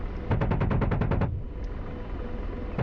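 Apache helicopter cannon fire in the combat flight game DCS World, a rapid burst of about ten evenly spaced heavy rounds lasting just over a second, then a steady rotor and engine rumble.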